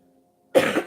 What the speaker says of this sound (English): Been coughing and having respiratory issues